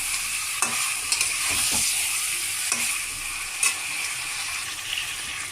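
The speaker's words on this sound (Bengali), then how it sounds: "এক এক করে মশলাগুলো দিব, মিক্সড করবো এইভাবে মাংসের সঙ্গে।" Chicken frying in a pan as ginger-garlic paste and spices are stirred through it for a Radhuni-style chicken curry, with a steady sizzle and scattered scraping strokes of the spoon, close and moderately loud with no talking.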